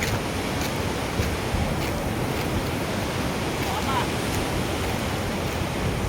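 Water rushes through two open gates at the Himayat Sagar dam, a dense, steady roar of falling water that stays loud and unbroken throughout.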